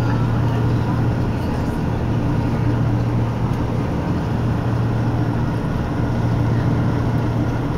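Soft, steady low hum of a boat motor on a calm sea off Northern Cyprus, a continuous drone that stays even throughout with no talk.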